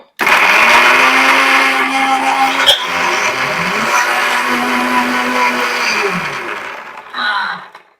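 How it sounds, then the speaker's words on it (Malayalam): A mixer grinder blends chutney paste with tamarind. It gives a loud, close, continuous whirring roar for about seven seconds, then stops briefly before one short final pulse. "സോ ഗ്രൈൻഡ് ചെയ്യാം നമുക്ക് സോ നമുക്ക് പേസ്റ്റ് റെഡി ആക്കാം"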